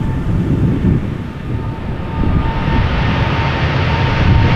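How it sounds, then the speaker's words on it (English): Jet airliner engines spool up at Amsterdam Schiphol in a loud, close, continuous rumbling roar with a faint steady whine above it, building slightly toward the end, with no voices. "They're spooling up behind me."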